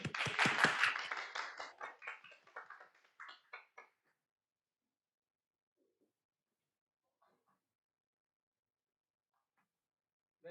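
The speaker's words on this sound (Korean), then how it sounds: "모실 때 큰 박수 부탁드리겠습니다." Applause for a keynote speaker at a business summit: a burst of clapping that starts strong, thins into scattered claps and fades out within about four seconds, followed by near silence.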